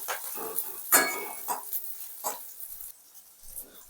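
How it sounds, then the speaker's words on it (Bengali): Cauliflower and other vegetables stirred and fried in a pan for vegetarian chira pulao, with scattered scrapes and clinks of a utensil against the pan over a faint sizzle, no talking. "ভালো করে একটু নেড়ে ভেজে নেব এই কটা সবজি"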